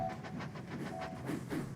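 A goods train rolling along the rails with a steady rumble and repeated clickety-clack beats, continuous and moderately close, with no voices.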